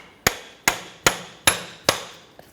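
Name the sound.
hammer tapping on tool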